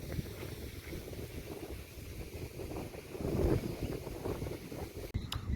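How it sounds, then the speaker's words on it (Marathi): Strong wind buffets the microphone in a continuous roar over a large net-covered farm field, with water lapping faintly underneath and a gust swelling midway. "वार तर एवढं सुटलंय"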